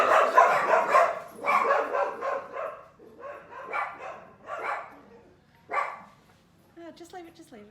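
A small dog barks in a string of sharp, close yaps with short gaps between them, ending in higher yips and whimpers.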